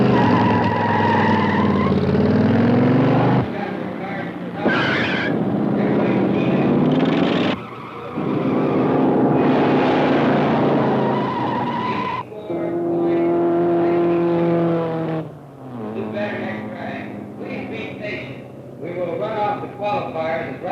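Race cars roar and skid around a racing track at a 1950s hot rod qualifying event, engines loud and continuous with tire squeal, while someone talks over the noise throughout.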